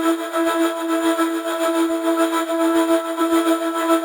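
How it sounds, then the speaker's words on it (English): A vocal-based UK garage loop carries side-chain pumping, making a dense sustained wash of tones that swells and dips rhythmically. It plays alone with no talk. "And this one I also added on some whatnot pumper just to give it a little more of that side chaining effect."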